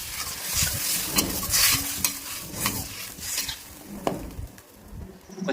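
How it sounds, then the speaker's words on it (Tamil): Spices sizzle and crackle in hot oil while making Tamil rasam, with a spoon scraping and stirring the pan at close range. "பச்சை வாசனை போக நல்லா வதக்கிக்கணும்."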